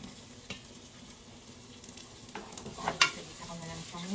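Onion and ginger dropped into a pan and stirred: a faint steady sizzle with a few soft scrapes and a brief clatter near the end, quiet and close.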